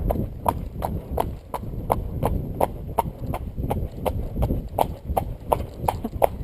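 A horse trots at a steady, even clip-clop on firm ground during a training session, hoofbeats close and regular throughout, with faint background noise.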